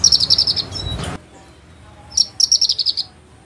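A bush lark sings inside a small bird shop, with two bursts of rapid, bright chirping notes separated by a quiet gap, sounding clear and close.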